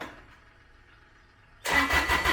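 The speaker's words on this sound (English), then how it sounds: "I'm going to start the tractor up." A quiet low hum, then a Kubota BX tractor engine abruptly cranks and catches, roaring loudly and steadily close by for the final second.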